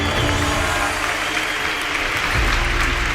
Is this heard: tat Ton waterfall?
no